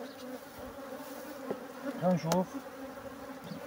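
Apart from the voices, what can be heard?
honey bees buzzing at an opened hive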